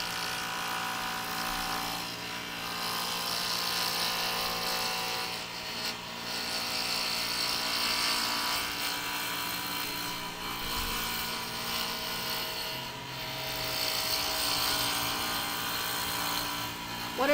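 A steady, continuous whir of sanding on a stabilized wood fountain pen, running evenly and close with only slight dips in level throughout.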